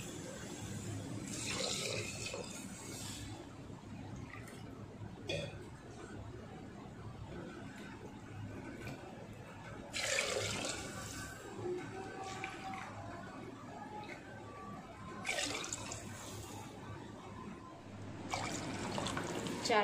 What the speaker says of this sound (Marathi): चार वाटी आपण, 4 चौकट आपण पाणी टाकलेलं आहे।